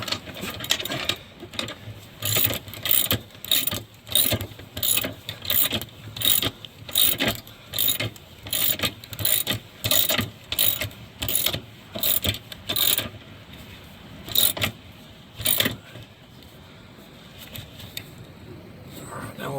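A ratchet wrench tightens oil pan bolts on a 2008 Suzuki Forenza, with a long run of evenly spaced sharp clicking strokes nearby that slows and fades toward the end, and no talk.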